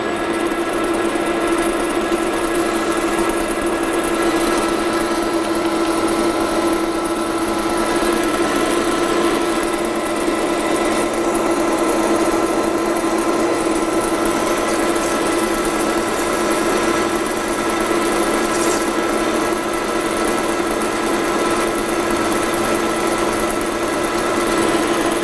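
A metal lathe takes a heavy 1.43 mm cut with cutting fluid applied, a steady machine drone with a strong constant hum and hiss running unbroken throughout, no talking.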